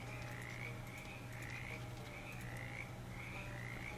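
Frog croaking in the Shadows Over Loathing video game, a steady series of evenly spaced rasping croaks, about two per second, faint against a constant low hum.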